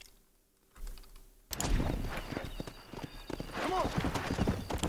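A horse trots along in the PC version of the video game Red Dead Redemption, its hooves making a quick, even clip-clop that starts after a brief near-silence and keeps a steady rhythm, close and fairly loud, mixed with other game sounds.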